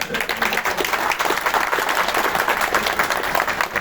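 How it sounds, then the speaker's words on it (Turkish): Strong applause from members of a Sinop hometown association gathering, honouring the association's board and youth branch: a full room clapping continuously and fairly loudly, with a faint murmur of voices beneath. "öncelikle Kıraç Sinoplular Derneği yönetimine ve gençlik kollarıma sizlerden güçlü bir alkış istiyorum"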